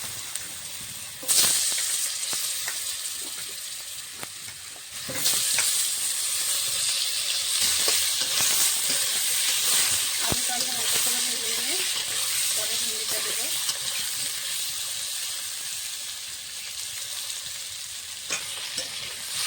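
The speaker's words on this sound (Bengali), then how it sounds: "মাছ ভাজার তেলে কিছুটা তেল দিয়ে দিয়েছি এখন আলুটা ভেজে নেবো আগে" Potatoes frying in oil left over from frying rohu fish, a steady bright sizzle with occasional stirring scrapes in the pan, close and continuous, with a louder burst as they hit the oil.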